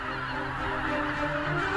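Flock of geese honking in the Biebrza Valley wetlands, a dense, continuous clamour of many overlapping calls at steady loudness with no pauses.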